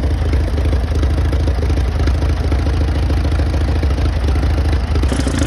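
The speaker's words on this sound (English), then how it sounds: "1937 Massey Harris Challenger, all original, hooked to a 1927 Massey Harris disc plow." A 1937 Massey Harris Challenger tractor, all original and hooked to a 1927 Massey Harris disc plow, runs with a steady, loud, close engine chug and clatter that holds an even rhythm throughout.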